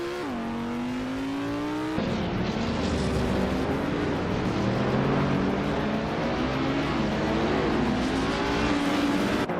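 Race cars in a racing game: an engine whine climbs then drops sharply at a gear change, followed by a dense, loud roar of several cars revving and passing, sustained throughout.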